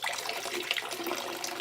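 Homemade wine juice being poured into a container, a steady liquid splash and trickle running continuously at close range with no talk.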